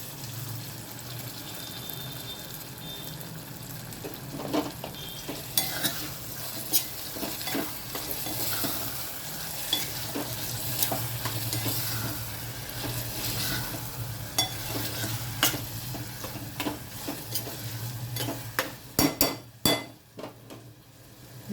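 Tomatoes and ginger sizzle in a hot pan while a spoon stirs and scrapes, with occasional metallic clinks and knocks against the rim, a steady frying hiss beneath, and no talking.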